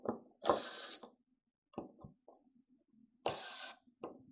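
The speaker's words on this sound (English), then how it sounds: "I'm going to go ahead and loosen those screws that we used for our auto set." An Atlas Copco MicroTorque electric screwdriver loosens small screws in a few short whirring bursts separated by quiet gaps, close and clear, with faint mechanical clicks between runs.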